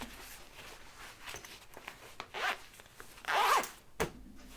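A zipper on the zipper gusset of a sewn backpack is pulled in a few short, soft rasping strokes, the longest near the end, close by in a quiet room.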